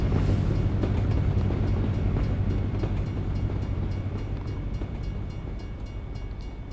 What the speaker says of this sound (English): There's a railway line somewhere around here.